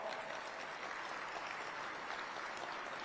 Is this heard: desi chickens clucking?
no